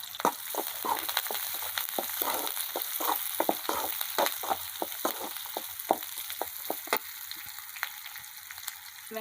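Drumstick flowers sizzle in a pan with onion, garlic and curry leaves, a steady crackling fry broken by frequent sharp pops and spatters, close and fairly quiet, with no talking.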